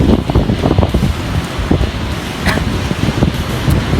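Strong sea wind buffets the microphone in gusty bursts, a loud rumbling roar with faint surf-like hiss underneath, on the coast of southern Negros Occidental.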